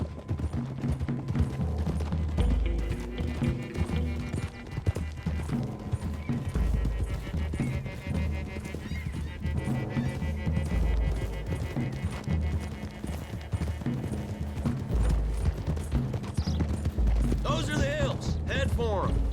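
Several horses gallop along a road in the video game Red Dead Redemption 2, a continuous thudding clip-clop of hooves that runs beneath loud game music, gunfire and scattered dialogue.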